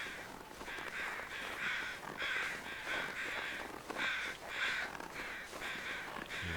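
Crows caw repeatedly in a survival game's outdoor wilderness, the harsh calls coming in a steady series of overlapping caws, moderately distant and alone with no talk.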